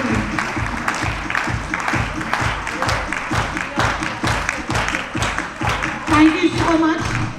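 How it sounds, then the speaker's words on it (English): Sustained audience applause from a crowd at a talk and book-launch event, steady dense clapping filling the whole stretch at close range, with a few voices murmuring underneath. "let's have some music and a big round of applause."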